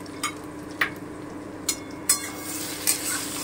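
Thick-cut onions frying in a pan for chilli paneer, a low steady sizzle under scattered clinks and scrapes of a utensil against the pan.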